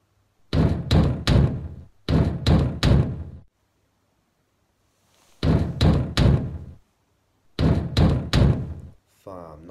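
Knocking on a door in repeated groups of three sharp, loud raps with pauses between them and a faint tail of other sound at the end.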